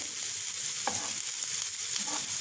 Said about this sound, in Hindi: हल्का सा प्याज को सौते करेंगे